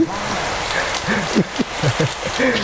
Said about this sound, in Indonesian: Ini hujan beneran guys. Ini beneran hujan.